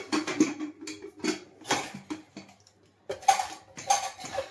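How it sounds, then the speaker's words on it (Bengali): A pressure cooker lid being closed in a home kitchen: a close series of metallic clanks, knocks and scrapes in short bursts, with brief pauses between the handling sounds. "এইবার আমি প্রেসার কুকারের ঢাকনাটা বন্ধ করে দিলাম"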